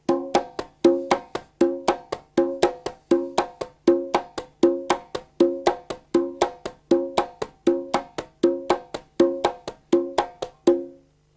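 The quila, the highest-pitched conga drum, plays its rumba pattern alone and up close: crisp, ringing hand strikes in a steady repeating cycle with sharp accents.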